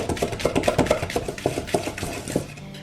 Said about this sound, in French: Maintenant, j'ajoute le sucre glace et le gramme de sel et je mélange vigoureusement.